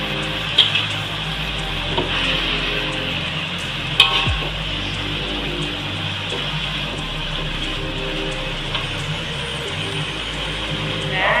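Spinach sautés in a pan for a Tamil keerai kadayal, giving a continuous soft sizzle with occasional clinks of stirring throughout.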